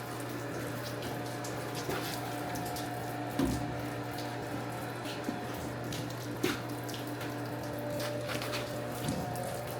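Water runs steadily into a steam boiler in an abandoned school, a continuous rushing flow with a low pump-like hum beneath it and a few brief knocks and splashes, with no talking.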